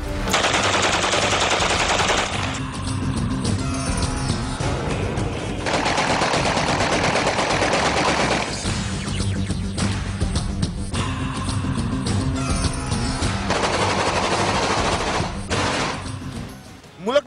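Celebratory aerial gunfire at an election, with long bursts of automatic fire separated by short pauses, the bursts loud and continuous, while a voice talks underneath.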